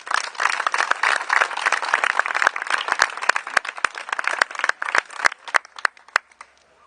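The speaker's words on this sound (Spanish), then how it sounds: "Un fuerte aplauso." An audience gives a burst of applause after the title of a short story is announced at a reading: dense, close clapping that thins into scattered claps as it fades toward the end.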